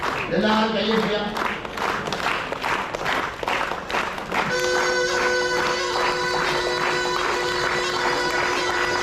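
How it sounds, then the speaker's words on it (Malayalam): Rhythmic clapping from the crowd at a Kerala street magician's outdoor show fills the first few seconds, then gives way to steady sustained musical tones as the clapping fades. "എല്ലാവരും കൈയടിക്കാം."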